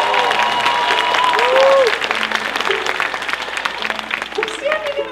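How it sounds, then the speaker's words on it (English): A live audience at an evening talent show applauds the performers, the clapping rising to a full burst and then easing off, with a voice talking over it. "can you guys give a big round of applause to all the performers tonight?"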